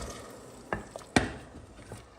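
Liquid hits a hot pan of beef being cooked for a Znojmo-style braised roast, giving a sudden loud hiss and sizzle with a couple of sharp splashes, then settling into a softer bubbling fry.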